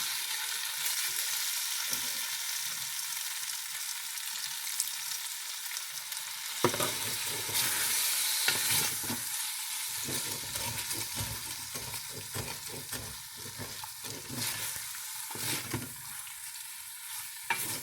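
Beef for stroganoff sizzles in a pan with a little broth added, a constant hissing fry broken up by scraping stirs, close and steady, with no talking.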